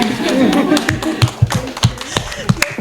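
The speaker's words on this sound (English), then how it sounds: "Moments like those deserve a hand." Scattered, uneven claps from a small audience at a church testimony gathering, a handful of sharp individual hand claps over a background of talking.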